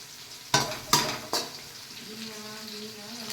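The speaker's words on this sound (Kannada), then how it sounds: "ಈರುಳ್ಳಿ ಒಂದು ಸ್ವಲ್ಪ ಬೇಯ್ದ ನಂತರ ಸರಿಯಾಗಿ ಫ್ರೈ ಮಾಡಬೇಕು." Onions and chili frying in a pan for chicken chilli: three sharp clattering stirs of the pan, then a steady, close sizzle that carries on underneath.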